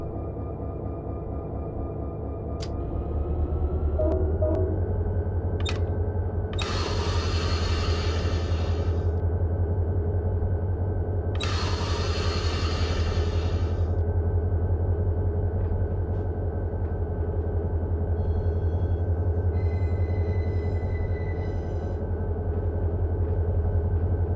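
A BNSF freight locomotive in the Run 8 train simulator pulls a string of hoppers, giving a steady low diesel rumble throughout with a few brief hissing air bursts and clanks.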